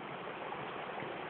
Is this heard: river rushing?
yes